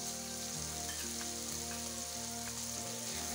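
Whisked yogurt poured into hot, well-fried masala for chicken kofta sets off a steady, dense sizzle that hisses evenly throughout with no voices.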